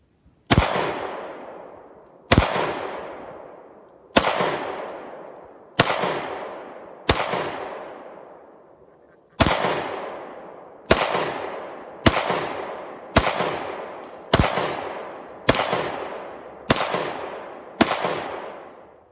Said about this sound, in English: So here's the results after we shot it with the Glock 19.